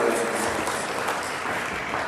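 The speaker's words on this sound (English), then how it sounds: "have their folks give them a second round of applause" Steady applause from the audience at a 2022 CDPS Executive Directors awards ceremony continues throughout without a break, dense and even in a large room.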